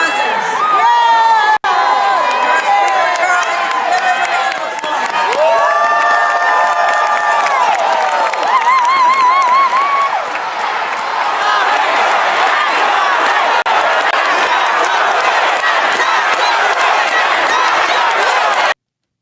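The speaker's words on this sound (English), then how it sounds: "And they yelled. They did yell." A large crowd yells, cheers and whoops continuously at a political event, loud and dense throughout with overlapping voices and shouts.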